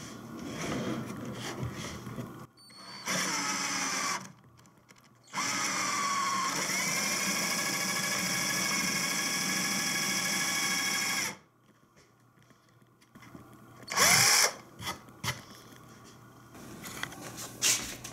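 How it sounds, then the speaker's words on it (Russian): A power drill fitted with a countersink bit cuts a recess for a screw head. It whirs in a short burst, then a longer steady run of several seconds, then one more brief burst, with quiet handling noises between. "чтобы просверлить, только чтобы утопить шляпку"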